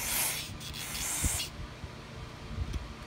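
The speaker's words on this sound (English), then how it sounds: "I'm gonna continue to spray this off. This is Briggs parts cleaner." Short bursts of Briggs parts cleaner sprayed onto a Murray lawnmower, a hissing aerosol spurt up front followed by faint rubbing and clicks, quiet and close.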